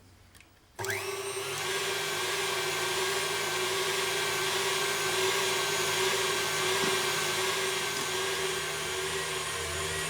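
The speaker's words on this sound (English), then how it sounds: "whisk these whites until they're sort of well and frothy" An electric mixer starts up abruptly and whirs steadily while whisking egg whites until frothy, a close, even motor drone that continues without pause or talk.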